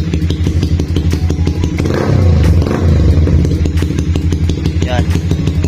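Loud motorcycle with an aftermarket exhaust pipe revving, a steady throaty engine drone that swells into a stronger rev in the middle, with a voice talking faintly underneath.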